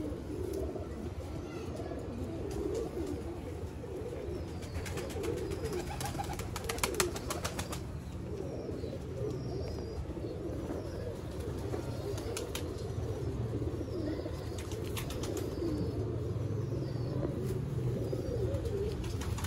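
Sialkoti pigeons coo steadily and repeatedly at close range, with occasional wing flaps and rustling among the birds.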